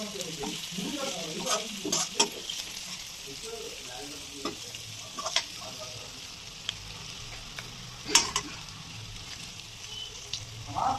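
Paneer tikka frying until brown in a pan: a faint, steady sizzle with occasional soft spatula taps and scrapes, fairly quiet and distant-sounding.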